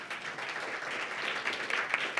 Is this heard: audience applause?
yes